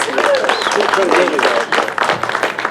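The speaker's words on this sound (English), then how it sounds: "if we could give him a round of applause" Steady applause from an audience at a backyard barbecue event, a dense wash of clapping with some voices mixed in, lasting a few seconds at fairly close range.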